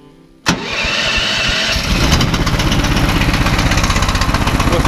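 Lider 3 motorized towing sled engine starting: quiet background, then a sudden loud crank catch at half a second, settling into a loud, close, rhythmic chugging idle that speeds up slightly and stays running to the end.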